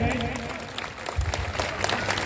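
Crowd clapping at a school annual function, continuous applause mixed with background chatter and a low rumble.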